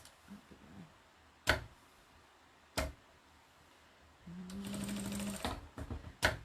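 A sewing machine stitches the pieces of a half square triangle quilt block together in one steady run of about a second, with a few sharp clicks and taps before and after it.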